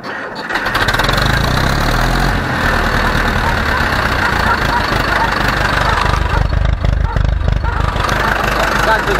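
An Ursus C 360 tractor engine cranks and fires up, then settles into a loud, rough, close-up idle with a steady low chugging rumble.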